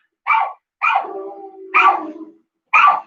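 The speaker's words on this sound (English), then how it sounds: "The dogs are literally losing their minds out there." Dogs barking outside, four loud distinct barks spaced apart with a drawn-out whine between them, close and clear with no talk.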